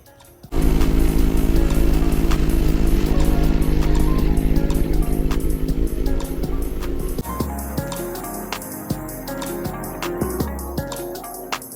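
A 2017 Yamaha R6 motorcycle with a short aftermarket exhaust idles loudly with a rough, throaty exhaust note, then revs in short bursts that drop back between blips.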